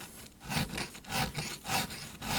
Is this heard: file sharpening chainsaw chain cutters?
yes